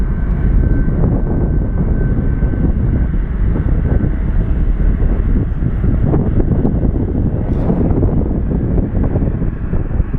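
A Delta Boeing 757-200 charter jet roars loudly and continuously at an airport, its deep engine rumble steady throughout with wind buffeting the microphone.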